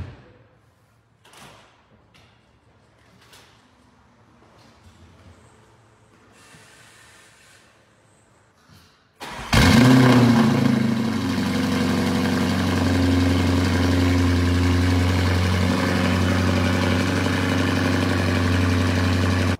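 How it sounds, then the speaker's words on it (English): A Mansory Urus Venatus starts abruptly after a quiet stretch of faint knocks and shuffling, then settles into a loud, steady, deep idle that holds to the end. "now you just have to listen to this beautiful Mansuri Urus Venatus sound"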